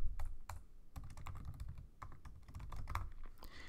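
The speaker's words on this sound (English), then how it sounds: "I'm going to type something like, today is a new day and I'm thankful for it." Steady, quick typing on a computer keyboard as a Python print statement is entered, a dense run of close, crisp key clicks with brief pauses, no voices.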